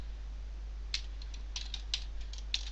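Sparse keystrokes on a computer keyboard while writing HTML in Notepad, soft clicks in small irregular clusters over a low steady hum.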